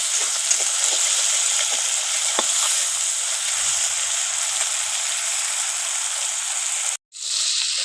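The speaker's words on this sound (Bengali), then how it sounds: "মাছটা আমি হালকা করে ভেজে নেবো একটু লাল লাল করে" Fish sizzles steadily in hot oil in a pan, a dense close crackling hiss with occasional louder pops, briefly cut off near the end.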